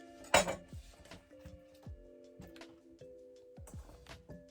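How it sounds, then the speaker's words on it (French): Sliced bell peppers and tomatoes slide off a cutting board into a salad bowl, opening with a sharp clatter and followed by soft knocks and ringing taps of the bowl at close range. "Je verse ça dans mon saladier."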